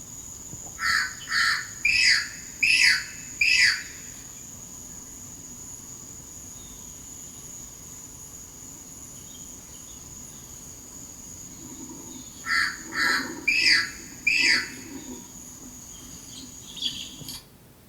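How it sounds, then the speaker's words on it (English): A racket-tailed drongo gives a harsh, crow-like call in two bursts of about four rapid notes each, with quiet gaps between and a faint steady insect hum underneath. "This is a bird called the racket-tailed drongo, and in this video it is partly making a call that seems to sound like that of a crow"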